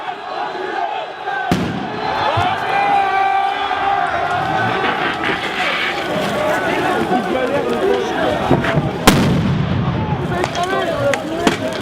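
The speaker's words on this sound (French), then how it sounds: "la valse des grenades lacrymogènes et tirs de flashball" Tear gas grenades and flashball shots go off during a Gilets Jaunes protest clash with police, with two sharp loud bangs amid a shouting, running crowd and constant chatter.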